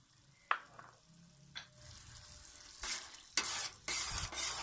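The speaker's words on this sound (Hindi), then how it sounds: "अब हम फ्लेम को हाई करेंगे और इसमें हम दही डालेंगे" Yogurt goes into a pan of frying mince and split black lentil curry over high flame, giving a steady sizzle with scraping stirs and a few clinks of the spoon against the pan.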